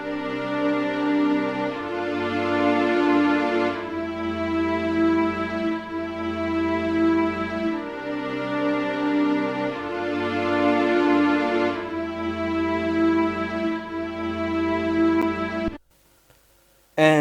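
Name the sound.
string section layering Xenology patches Expressimo and Large String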